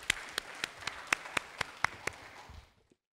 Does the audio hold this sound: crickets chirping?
no